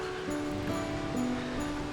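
Wang Kwang waterfall at Phu Kradueng, swollen with late-rainy-season flow, gives a steady, full rush of falling water that holds at an even level throughout, with faint tonal hum over the broadband roar.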